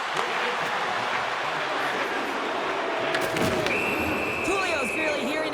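Home arena crowd in the NHL 26 hockey video game, an AHL matchup, a steady loud roar of spectators filling the whole stretch with a few swells and whistle-like tones near the end.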